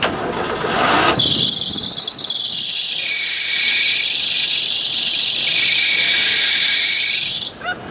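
Kia Spectra car engine cranking and catching at about one second, then settling into a steady, fairly loud idle with a high whining hiss, cutting off near the end.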